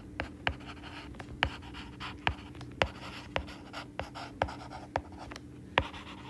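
A pen writes out maths notation on paper during a class 9 maths lesson, close scratchy strokes with sharp taps at regular intervals over faint background hum.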